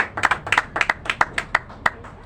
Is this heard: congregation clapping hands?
yes